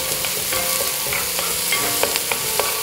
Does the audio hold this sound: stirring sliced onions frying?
yes